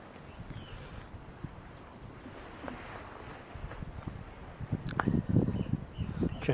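Wind blows across an overnight riverside camp on the River Wissey, a steady broad rush with low buffeting against the microphone that grows stronger and gustier toward the end.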